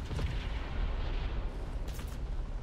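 Flak guns firing in War Thunder, a dense rumble of booming anti-aircraft fire with scattered sharp bursts, loud and continuous throughout with no talk.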